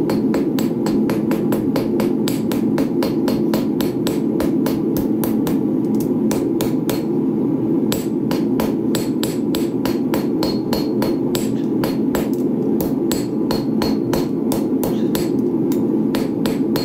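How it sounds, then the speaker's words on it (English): A hammer strikes steel trident teeth being forged flat on an anvil, with rapid, steady, loud ringing blows repeating throughout over a constant background hum. "So I'm gonna kind of forge the teeth down a little bit so they stick, or so they lay a little flatter."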